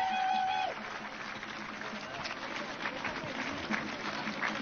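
A crowd at an outdoor counter-protest rally in Washington DC applauds steadily at a moderate distance, with a voice briefly audible at the start and scattered cheers over the clapping.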